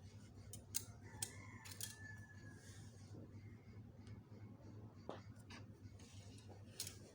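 Scissors snip through fabric being cut out for a palazzo jumpsuit, a few quick crisp cuts near the start followed by faint scattered clicks over a low steady room hum.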